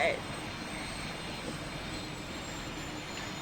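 A Boeing 747 taxiing in a flight simulator game gives a steady, even jet engine drone that holds at a constant level throughout, with no voices over it.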